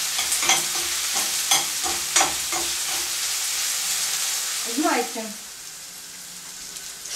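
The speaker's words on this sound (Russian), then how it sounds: "когда острый перец жарится с луком" Hot pepper and onion frying in a pan sizzle steadily while a utensil stirs and scrapes in repeated strokes; a brief spoken word comes in near the end.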